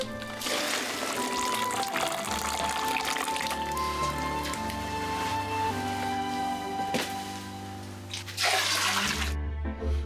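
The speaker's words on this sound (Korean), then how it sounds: "그 약초물을 커다란 고무 물통에 한 바가지 붓는 남자." A scoop of herbal water, boiled in an iron cauldron, splashes and gurgles as it is poured into a large rubber tub, with steady sustained music playing over it.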